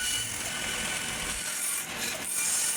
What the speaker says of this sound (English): especially with long pieces when I'm actually ripping on a bandsaw